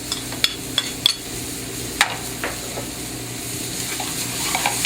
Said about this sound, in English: Saute them a little bit.